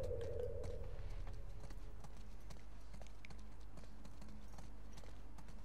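Horses' hooves clip-clop at a walking pace in The Last of Us Part II, a steady rhythmic series of quiet thuds over low ambient background.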